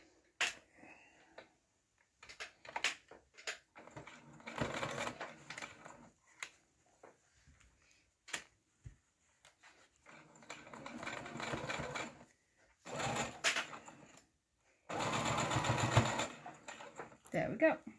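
Sewing machine stitching fabric onto the back of a head piece for a soft toy, running in several bursts of steady rapid whirring, loudest near the end, with short pauses between and someone talking in the gaps.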